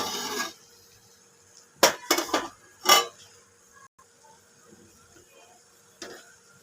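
A pot lid is lifted off steamed potatoes, the lid having had water poured on it; a few quiet, sharp metallic clanks and knocks come in a short cluster, separated by near silence.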